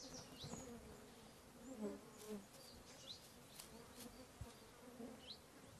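Faint buzzing of flies weaving around over quiet outdoor ambience in the Greater Caucasus in late summer, with a few brief louder passes close by.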